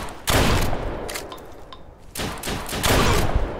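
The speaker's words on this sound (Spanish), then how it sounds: "Vale, me disparan de aquí." Bursts of gunfire in the Deadside survival shooter game, loud and close, coming in two clusters of rapid shots with a short lull between them.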